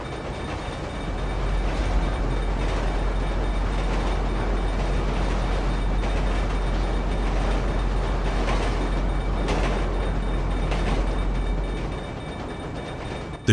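A train in Grand Theft Auto rumbles past through a neighborhood in a steady, loud rolling roar over a deep low hum, easing off slightly near the end.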